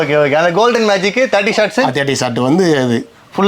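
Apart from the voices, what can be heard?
None of the usual background noises is heard.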